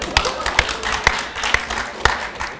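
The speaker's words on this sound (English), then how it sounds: "No more clapping now." An audience at a mock presidential debate claps steadily, with sharp overlapping hand claps repeating close and loud throughout.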